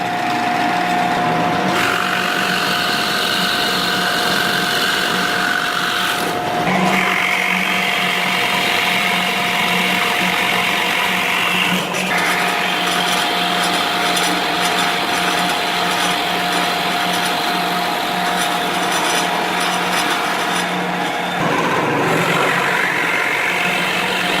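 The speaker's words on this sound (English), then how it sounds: "we need a second hole on the legs only, drilled 13¼ in from the end" A Shopsmith multipurpose woodworking machine drones loudly and continuously as it drills a hole into a wooden table leg, the motor pitch shifting as the bit cuts, with no talk.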